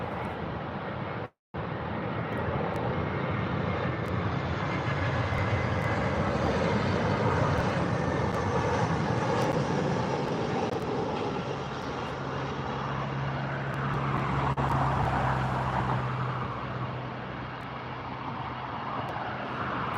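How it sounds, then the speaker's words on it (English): An EasyJet airliner inbound from Bordeaux on approach to land at Gatwick, a steady broad jet roar that swells and holds loud throughout, with a low engine drone rising near the end. "Here comes the EasyJet from Bordeaux."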